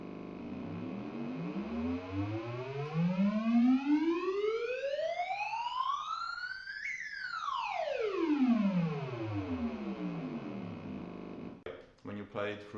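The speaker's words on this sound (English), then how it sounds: "Let's hear how the Theremin sounds like in the calibration mode." A Moog Etherwave Plus theremin in calibration mode emits a steady, bright electronic tone that glides upward in pitch for several seconds, then sweeps back down, closing with a short choppy flutter, loud and alone.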